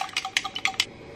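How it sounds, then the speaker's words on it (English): Ingredients for a Greek feta and chicken salad dressing, including microplaned garlic, being mixed in a dish: a quiet run of short, sharp clinks and taps in an uneven rhythm, with no talking. "Now you're just gonna mix up your ingredients."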